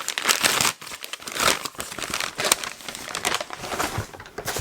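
Plastic wrapping on a mail package of books crinkles and rustles loudly up close as it is torn open, in dense irregular bursts with brief pauses and no speech.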